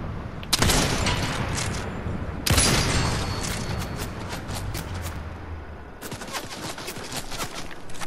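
Fortnite gunfire crackles in dense, loud bursts, with rapid automatic volleys, heavy booming shots near the start and midway, and sustained firing continuing to the end, no voices over it.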